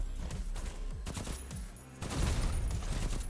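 Rapid bursts of gunfire in the shooter game KIBORG: Arena, crackling volleys in quick succession with a brief lull before a denser, louder stretch of shots.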